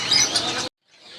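Caged birds chirping and tweeting at the Saddar bird market, a dense burst of bright calls that stops abruptly, then faint chatter returns after a short silence.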